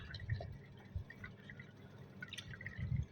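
Water poured into a container to dilute liquid fertilizer for jasmine plants, soft gurgling and dripping heard up close but faint, with a few splashy bursts and no talking.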